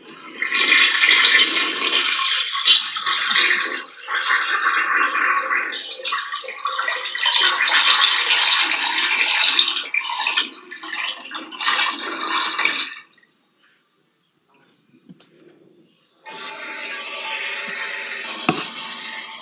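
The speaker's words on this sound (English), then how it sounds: "I'm just glad that's all we heard was the toilet flushing." A toilet flushes with a loud, sustained rush of water lasting about thirteen seconds, then goes quiet before the tank refills with a steady hiss.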